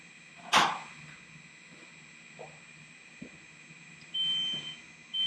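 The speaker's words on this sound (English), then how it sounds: "So you can hear the soft tone of the alarm" Soft electronic tone from a Belco unit's power-failure alarm, a faint steady beep sounding near the end after a sharp click and a few small knocks in an otherwise quiet room.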